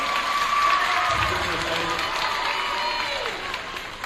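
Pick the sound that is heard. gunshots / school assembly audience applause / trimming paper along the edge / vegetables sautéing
school assembly audience applause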